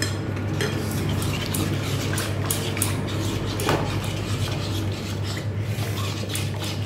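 A spoon stirs mango and yogurt together in a bowl for mango mishti doi, producing soft repeated scraping and clinking strokes at a steady pace, close and alone under a low background hum.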